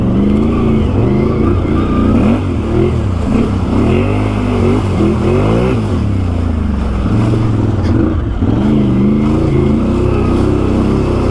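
A 2020 Can-Am Outlander XMR ATV with a swapped 850 engine runs loud and close, its engine revving up and down in repeated surges over a steady roar.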